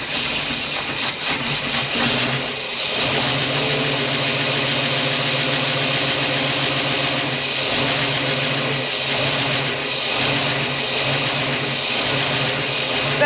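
A fire-damaged Buick Electra 225 engine idles steadily and smoothly after its rescue, a low continuous hum with a faint whine on top, fairly close and without any voices.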